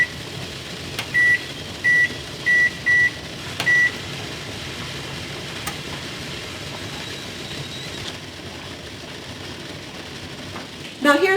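A kitchen timer set during water bath canning of applesauce gives five short, clear electronic beeps in an even rhythm over a low background hum.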